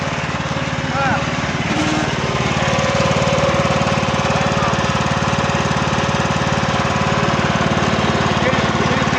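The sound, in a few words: ride-on lawn mower engine running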